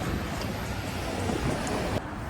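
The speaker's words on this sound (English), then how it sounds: "Obviously it's windy, which it is right now." Gusty outdoor wind buffets the microphone in a public park as a steady broadband roar, continuous and fairly loud throughout, easing slightly near the end.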